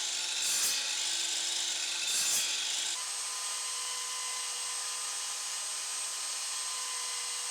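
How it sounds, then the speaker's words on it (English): A handheld power drill bores dowel holes in wood without a drill press or jig, whirring steadily close by, with two short bursts of heavier cutting near the start before settling into a continuous drone. "I drilled all of these holes without a dowel jig and without a drill press"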